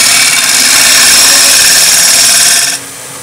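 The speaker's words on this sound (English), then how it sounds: "Getting some nice shavings off that." Steady, loud hiss of a scraping tool cutting shavings from wood spinning on a lathe, continuous and close-up, then abruptly easing off near the end as the cut stops, leaving a lower hum.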